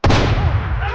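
A single loud gunshot from a movie scene: a sharp, booming blast that rings out and decays quickly, close and alone.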